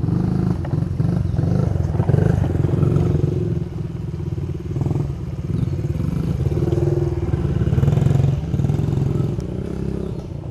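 Kids ride off-road motorbikes at the Brown Mountain OHV park, with engines droning and revving steadily close by for the whole stretch, plus some clatter, and no talking.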